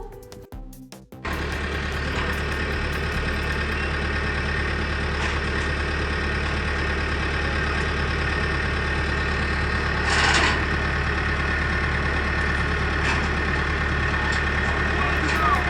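A heavy JCB backhoe loader diesel engine runs steadily at idle, a constant low rumble with a faint high whine, after a brief quieter start.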